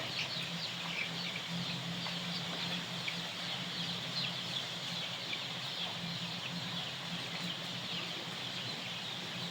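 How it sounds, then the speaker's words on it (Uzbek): A crowd of several hundred roosters clucks and murmurs continuously, a dense steady chatter of many birds with no single call standing out. "Xo'rozlar."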